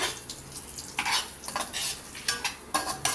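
Semolina roasting in ghee for cashew chocolate fudge is stirred briskly in a pan. Loud, repeated scraping strokes of the spoon sound over a soft sizzle, close and without speech.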